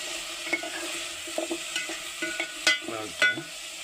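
Vegetable pieces are stirred in a hot pan as they fry, with a soft sizzle underneath and several distinct scraping, clattering spatula strokes, close up and without speech.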